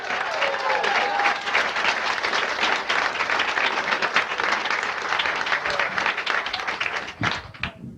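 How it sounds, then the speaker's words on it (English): Studio audience at the Laughs Unlimited comedy club in 1987 applauds a stand-up comic, steady dense clapping that fills the room and tapers off near the end. "A big round of applause."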